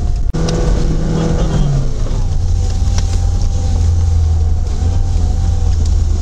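Off-road vehicles, including a Chevrolet Niva, a UAZ and a Mitsubishi on summer tires, rev and strain through mud and snow. A steady, loud, close engine drone rises after a sharp knock near the start.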